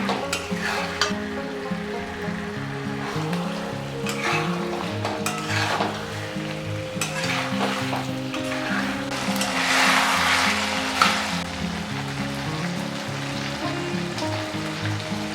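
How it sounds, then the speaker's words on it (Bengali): Chicken for chicken kosha fries and is stirred in a pan as potatoes go in, a loud continuous sizzle with repeated clanking and scraping of the spoon against the pan. "মাংসটা খুব ভালো মতো কষানো হয়ে এসেছে এখন দিয়ে দেবো আলুগুলো"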